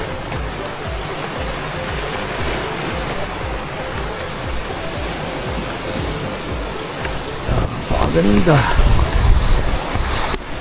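Ocean surf rolling onto a seashore, a steady broadband wash of waves with wind buffeting the microphone, growing louder near the end while a person speaks briefly over it.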